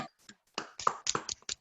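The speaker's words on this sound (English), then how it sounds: "Let's give everyone standing a huge round of applause." Scattered hand claps and taps from participants unmuted on an online video call, a thin uneven burst of applause arriving in clusters over a second or so.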